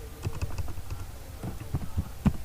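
Computer keyboard typing while entering input in Visual Basic 6.0, with irregular clusters of close, light key taps in uneven rhythm and a few heavier strokes near the end.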